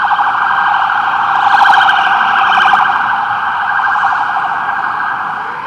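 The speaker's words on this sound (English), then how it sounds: "another ambulance going by." An ambulance siren wails on a street near a train station, a loud, steady warbling tone that swells as it passes and slowly fades, with no talk.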